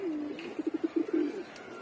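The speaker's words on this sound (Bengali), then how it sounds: "এই যে অতিথি কবুতরটা খাচ্ছে।" A pigeon feeding close by gives a soft, low, throaty coo made of a rapid string of short pulses, fairly quiet against a calm background.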